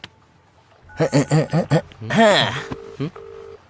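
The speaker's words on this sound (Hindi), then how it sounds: "ए, रिंग जा रही है।" A phone's ringback tone sounds as two short, steady beeps, following a run of voiced, tuneful notes.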